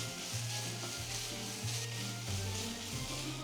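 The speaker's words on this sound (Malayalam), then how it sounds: "അതുവരെ നന്നായിട്ടൊന്ന് വഴറ്റിയെടുക്കുക" Garlic and ginger sautéed for a homestyle duck curry, producing a quiet continuous sizzle with soft scraping stirs and faint rubbing of the spatula in the pan.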